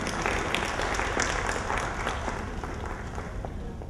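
A conference audience at a stock exchange market launch gives the chief executive a steady round of applause, a continuous wash of clapping at moderate distance, fairly subdued throughout.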